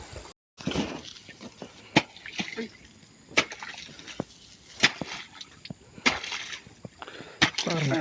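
Stagnant water drains out of a flooded plot where palm oil seedlings are planted, sloshing and splashing close by in uneven bursts, with sharp slaps and sudden spikes over a low trickling bed.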